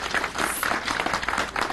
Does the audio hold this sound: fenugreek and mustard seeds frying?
no